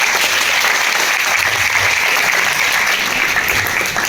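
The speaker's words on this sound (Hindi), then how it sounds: "ये सर एक बार हमारे सीनियर लेवल के लिए बस जोरदार ताली होनी चाहिए।" An audience at a corporate program applauds loudly and evenly, a thick, unbroken roar of clapping from a large crowd that holds at full strength throughout.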